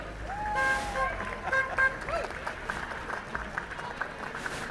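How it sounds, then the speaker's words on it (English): Outdoor crowd applause at the 2019 St Patrick's Day parade in Sligo, a moderate wash of clapping mixed with voices and some tonal sounds from the street. "Give them a big round of applause."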